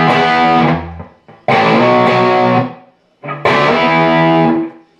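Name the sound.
bass guitar lick sliding from D up to E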